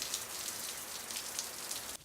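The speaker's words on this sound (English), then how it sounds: "The rain was falling harder." Steady rain pattering on a surface, an even hiss of many drops close by, with no voices.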